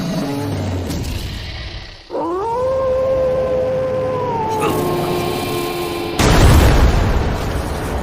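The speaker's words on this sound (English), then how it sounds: "it lets out a loud roar that paralyzes Rakuro" A monstrous beast in an anime lets out a loud, sustained roar that holds steady for several seconds, followed by a sudden burst of crashing noise.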